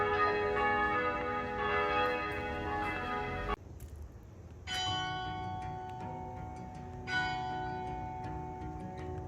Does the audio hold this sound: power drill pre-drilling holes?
no